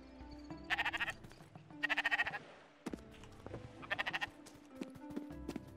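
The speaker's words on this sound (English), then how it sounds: "Ooh, a sheep." Sheep in the video game Spiritfarer bleat in three separate wavering calls over a soft, steady game soundtrack, each bleat a quick rapid pulsing burst of moderate loudness.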